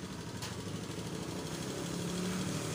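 A Honda Scoopy scooter engine idles nearby with a steady, slightly rough putter that holds even for a few seconds, with no voices.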